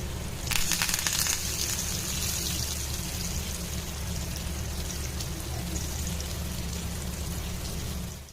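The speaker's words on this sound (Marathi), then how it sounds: "आणि वरून मी आता कढीपत्ता टाकते." Curry leaves dropped into hot oil where bangda fish is frying with garlic, a sudden loud crackling burst that settles into a steady close sizzle.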